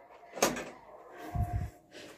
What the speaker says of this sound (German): Irgendwie klemmt die Tür hier.